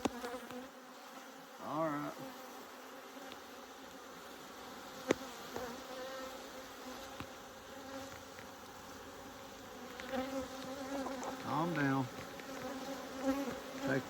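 Agitated honeybees swarm around an opened hive, a continuous buzzing drone with louder passes of individual bees flying close by.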